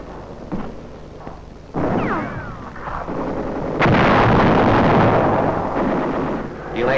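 Delayed-action bombs exploding on enemy hillside positions during a Marine battle, a series of heavy booms and rumbling blasts that grow louder and denser, with a sustained roar in the final seconds, no speech.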